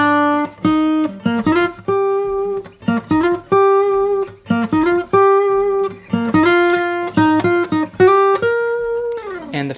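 Close acoustic guitar plays the C section of a song, a busy run of quickly plucked single notes in a flowing rhythm, each ringing briefly, with no voices.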